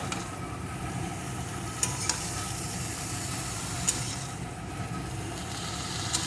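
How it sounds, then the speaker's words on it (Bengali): Eggplant fries in a little oil in a pan with a soft, continuous low sizzle and a few faint clicks of a utensil. "আপনারা দেখতে থাকুন আমি বেগুনটাকে ভেজে নিয়ে ফিরে আসছি"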